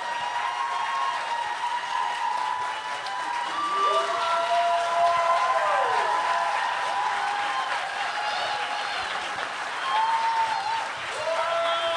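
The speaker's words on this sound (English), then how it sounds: "please, a hearty round of applause for everyone that participated in this round" Audience applause and cheering fill a poetry slam at a Portland public schools event, a steady crowd wash lasting throughout with whoops and shouts rising over the clapping, fairly close and loud.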